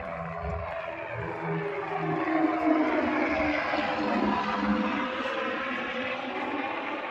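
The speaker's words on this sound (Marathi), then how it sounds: "हेलिकॉप्टर चालू आहेत सारखे." Helicopter rotor noise drones overhead among mountains, swelling and fading as aircraft pass, a steady throbbing whir without talk.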